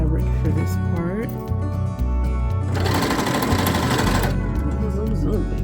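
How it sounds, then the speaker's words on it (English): A home sewing machine stitching sheet fabric for a blouse, whirring in close, loud bursts with a short pause and rising then steady motor tone, while a person talks over it. "Pretty much just keeping the edge of my presser foot on the edge of the fabric for this part."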